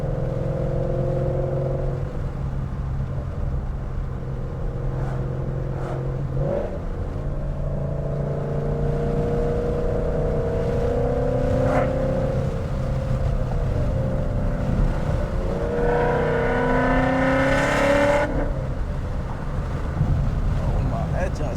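Ford Mustang GT with headers driving, engine droning steadily and rising through gears with a sharp rev near the end, loud inside the cabin under heavy wind noise.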